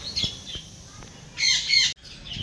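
Pet birds kept at home on a dark, stormy morning, giving a few short sharp chirps followed by a brighter burst of twittering calls, close and clear with no talking.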